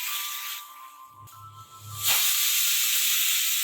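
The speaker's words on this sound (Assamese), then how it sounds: "এতিয়া কুকাৰৰ ভাপটো নিজে নিজে ওলাই যোৱালৈ কলডিলখিনি ৰাখি দিম" A pressure cooker with banana flower inside releases steam in a loud, steady hiss that dips briefly, with a low rumble underneath, then surges back stronger and continues alone.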